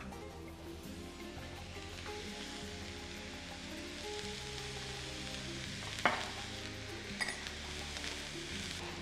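Chopped onions, salted, sizzle and are stirred in hot oil while cooking a spinach samosa filling; a steady, dense frying hiss runs throughout with a faint musical hum beneath and a couple of sharper utensil clinks.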